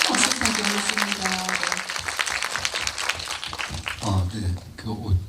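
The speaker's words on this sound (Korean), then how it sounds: "박수 부탁드리겠습니다" An audience at a Korean independent film screening and guest talk breaks into dense, sustained applause on a rainy day, filling the first four seconds before thinning into scattered claps with a voice speaking over them.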